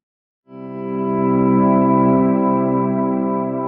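An electric guitar note swells in through a volume pedal, fading up smoothly from silence into a sustained, harmonically rich tone, with delay trails ringing on behind it and no voices.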